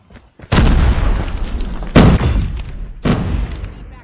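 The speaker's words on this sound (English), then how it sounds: "Grenade out." A grenade explosion in a competitive video game match: three loud, close booms in quick succession, each a sharp blast trailing into rumble.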